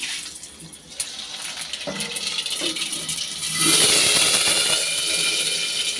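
Loud, steady sizzling and spattering, a bright hiss that swells midway as seeds hit hot oil and keep crackling close by.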